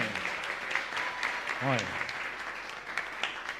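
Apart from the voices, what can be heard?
congregation applause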